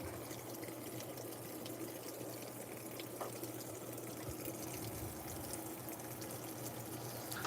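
A Kenmore 90 Plus direct-drive washing machine filling with water for a heavy load of colors, a steady faint rushing spray of water running without pause.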